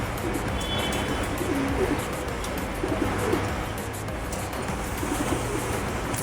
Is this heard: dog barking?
no